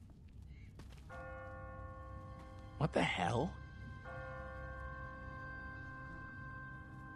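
An automatic church bell on a timer rings in a ruined city in The Walking Dead video game, sustained steady tones sounding twice with a brief gap, while a voice speaks a short exclamation over a thump in between.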